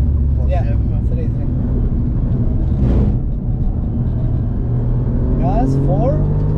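A race car lapping a circuit in the Emirates, its engine drone heard from the cockpit, with brief rising and falling bursts as it brakes and shifts down. A driver and a coach talk over the noise.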